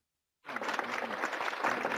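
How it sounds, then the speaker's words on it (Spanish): A class applauds fellow students after their presentation, the clapping starting abruptly after a brief silence and continuing as a steady, fairly soft patter of several hands. "Un aplauso para virtual a sus compañeros, compañeras."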